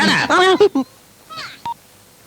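Several short keypad beeps from a telephone being dialed sound in quick succession, partly overlapping and following a voice, close and clear.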